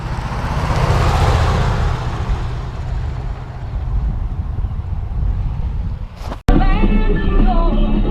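A 1973 International Harvester 1210 4x4 survivor pickup truck is driving. A low engine rumble sits under heavy wind buffeting, then a brief dropout near the end is followed by a steadier, clearer engine drone.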